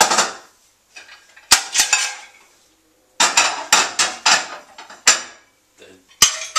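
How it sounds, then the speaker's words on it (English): Plates being unloaded from the bottom drawer of an Electrolux ESL 6225 dishwasher, heard as a series of sharp ceramic clinks and clatters in bursts, close by, with quiet pauses between and no talk. "Now the bottom drawer can be slid out. We can unload the large plate."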